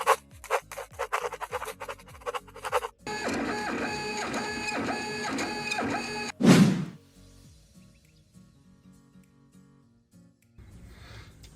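A 3D printer runs with rapid rhythmic stepper-motor whirs and buzzing tonal sweeps, close and fairly loud, followed by a sharp thunk and then quieter motor hum.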